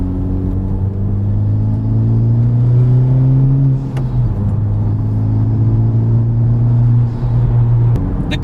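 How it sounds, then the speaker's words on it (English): A 2021 Honda Civic Type R engine revs steadily, its loud droning note holding and dipping slightly as revs hang between blips, with a brief drop near the middle before climbing again; no voices. "I get asked a lot of questions about rev hang with this Type R"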